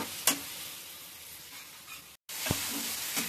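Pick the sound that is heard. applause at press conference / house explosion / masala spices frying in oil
masala spices frying in oil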